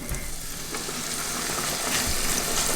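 Batter-coated Korean corn dog sizzling in hot oil, a steady, dense crackle and hiss that carries close and constant throughout with no talking.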